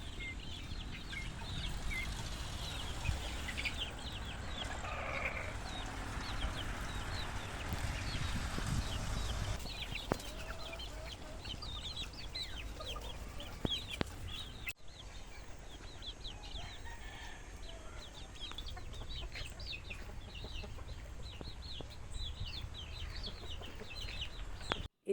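Chickens, young chicks and cockerels on a farm at dusk, clucking and calling steadily throughout at moderate distance, with occasional wing flaps and no talk.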